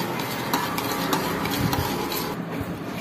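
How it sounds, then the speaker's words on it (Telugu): A spoon scrapes and stirs a dry spice mixture with salt, making steady soft gritty rustling with faint clinks and no talking. "దీన్ని బాగా మిక్స్ చేయండి"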